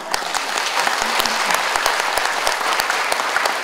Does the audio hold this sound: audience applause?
yes